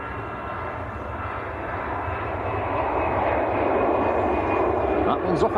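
An EasyJet airliner rolls for takeoff at Manchester Airport, its jet engines giving a distant broad roar that swells gradually, with someone talking over it.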